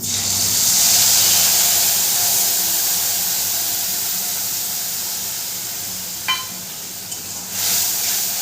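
Kashmiri chilli, cumin, coriander and turmeric powders mixed in water hit hot oil for doi potol, a loud hissing sizzle that slowly fades over several seconds, with a brief spoon clink near the end.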